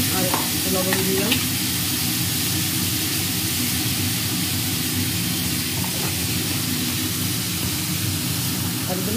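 Potatoes fry in a pan with a little salt, a steady near sizzle broken by a few clinks and scrapes of stirring.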